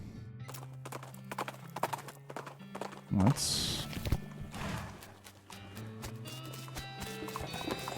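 Horse hooves clip-clop steadily in the West of Loathing video game, running through game music, with someone talking over most of it.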